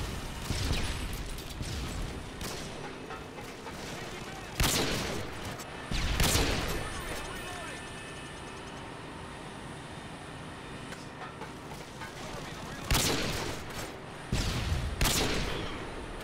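Gunfire from Modern Warfare 2 on the Terminal map during a trickshot: several sharp, loud shots in scattered bursts over a steady background hum of game ambience, with no talk.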